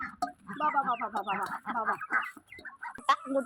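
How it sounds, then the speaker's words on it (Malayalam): Chickens cluck and murmur in a continuous, busy chatter close by, overlapping calls rising and falling without pause. "ഇതേ കോഴികള്"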